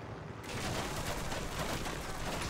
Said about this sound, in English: now they're shooting me in the belly